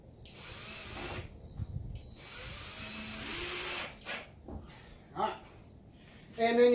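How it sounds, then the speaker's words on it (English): A power drill drives screws into door hinges in several short whirring bursts, with quieter handling noises and clunks between them. "Just go ahead and put all of your screws in. I like to put one screw in each hinge."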